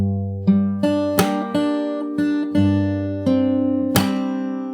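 A fingerstyle acoustic guitar plays a chord passage, with plucked bass notes and chords alternating with crisp percussive slaps. The playing is close, steady and unaccompanied by voice.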